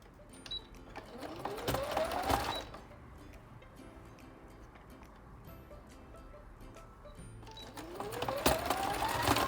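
A sewing machine stitches a fabric Easter bunny soft toy in two short runs, a near whirring motor with rapid rhythmic needle clatter that speeds up, separated by a quieter pause.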